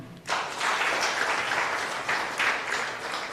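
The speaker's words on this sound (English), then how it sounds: "And an exceptional round of applause to the First Lady" A crowd at the official 2022 PLE results release breaks into sustained applause, with many hands clapping together at moderate distance and swelling in waves.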